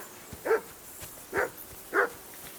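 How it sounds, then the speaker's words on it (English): Dog barking in the medieval video game Kingdom Come: Deliverance 2, three separate deep barks spaced evenly apart against a quiet outdoor background. "I assume you can hear that damn dog of yours barking."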